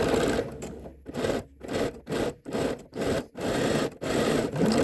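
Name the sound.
sewing machine stitching a swimsuit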